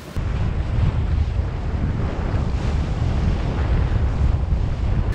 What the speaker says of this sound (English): We've got 18 knots of wind on the port quarter, on the port bow rather.